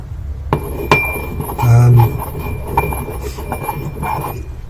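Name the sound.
grinding material into fine powder in a mixing bowl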